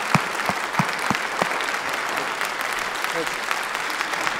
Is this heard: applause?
yes